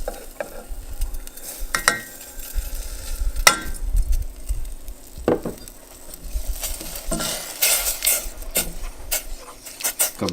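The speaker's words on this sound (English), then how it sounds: "So now we're gonna add in our 1/4 cup of grits." Quarter cup of grits poured into boiling water in a pot and stirred, with repeated scraping and clinking of a spoon against the pan over a soft bubbling, sizzling background.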